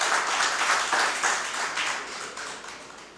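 An audience claps at a Nigerian road works ministry event, a dense patter of hands that swells briefly then tapers off over a few seconds, with no talk over it.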